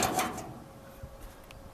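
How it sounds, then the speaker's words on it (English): Small doors on a 1945 antique refrigeration reefer cooler being opened, a muffled wooden rattle and bump at the start followed by faint clicks and light knocks, close and fairly quiet. "these little doors that open."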